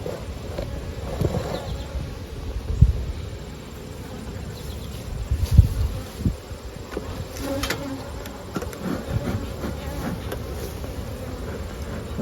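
Honeybees swarm over the upper brood chamber of an opened hive one week after a Formic Pro treatment, giving a dense, steady, close buzzing with individual bees droning past now and then, and no voices.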